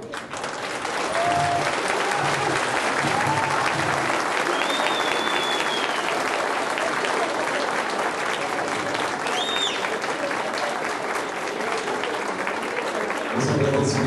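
An audience applauds the parents in sustained, dense clapping that fills the whole stretch, loud and continuous with no voices over it.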